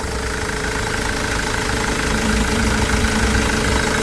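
The diesel engine of a 2005 manual-gearbox van idles close by at an outdoor used-car market in Lutsk, a steady low rumble with rhythmic knocking throughout, no talking.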